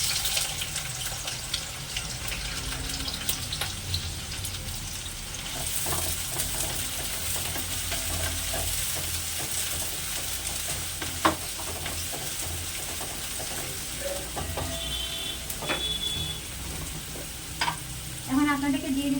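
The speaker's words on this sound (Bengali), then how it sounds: "এখান থেকে কিছুটা পেঁয়াজ দেব, দিয়ে এটা ভেজে নেব" Chopped onions fry in a pan for chicken biryani, giving a steady broad sizzle with occasional stirring scrapes and light clinks, near and moderately loud, with no talking.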